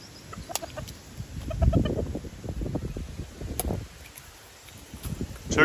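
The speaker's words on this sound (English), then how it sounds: "Chickens!" Chickens cluck repeatedly in low, scattered bursts, close by, with rustling and faint background noise throughout.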